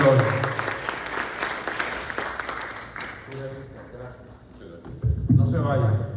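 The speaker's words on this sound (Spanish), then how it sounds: "Un aplauso para todos ellos." Audience applause at an academic journal presentation, a burst of clapping from the crowd that fades midway, with people talking over and after it.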